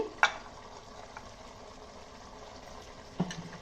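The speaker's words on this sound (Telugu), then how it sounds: "ఇప్పుడు దీనిలో మనం ముక్కలుగా కట్ చేసి పెట్టుకున్న టమాటా ముక్కల్ని దీంట్లో వేసేస్తున్నానండి." Tomato pieces with mint and coriander fry in a pan with a faint, low sizzle, marked by two sharp clinks of a utensil at the start and end.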